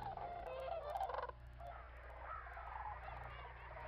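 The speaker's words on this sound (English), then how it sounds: "view wave after wave of cranes and geese flying in as the sun sets" Cranes and geese call in a dense overlapping chorus while flying in to roost at sunset at a New Mexico wildlife refuge. The honking and gobbling calls are loud and continuous, busiest in the first second and then easing into a steady background clamour.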